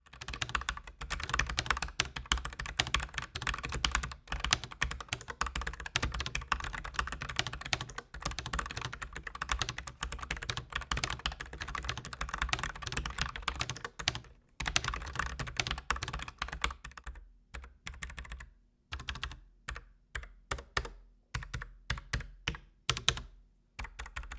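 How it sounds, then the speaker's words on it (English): Continuous typing on a low-profile Cascade 98 Slim keyboard with a hollow, muted tone, steady and fast at first, then thinning into scattered separate keystrokes near the end, close up with no voices. "it has a more hollow sound as opposed to a more high pitch or narrow one"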